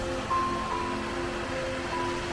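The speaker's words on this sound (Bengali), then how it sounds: "কত ওপর থেকে একদম নিচে ঝর্ণাটা ওখান থেকে নিচে পড়ছে" A waterfall at Sasaram pours down from a great height, heard as a soft, continuous rushing wash at a distance, fairly quiet and unbroken throughout.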